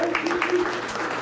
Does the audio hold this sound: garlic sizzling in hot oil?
no